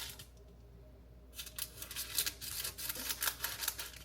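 Parchment paper being cut with scissors several sheets at once, a quick run of close crisp snips and rustles following a brief quiet start.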